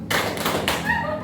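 Claps from a classroom clap game: a short burst of a few sharp hand claps close by, blended with room noise.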